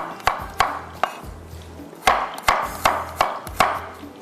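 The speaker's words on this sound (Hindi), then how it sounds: "थोड़ा सा हम इसको लहसुन को भी चॉप कर लेते हैं इस तरह से" A knife chops garlic sharply on a cutting board in quick bursts of several strokes, with short pauses between the groups.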